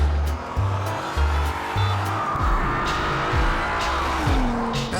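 An Audi TT engine revs and accelerates hard, surging up in repeated bursts with gear changes. The car sounds close and loud and is heard alone, with no talking.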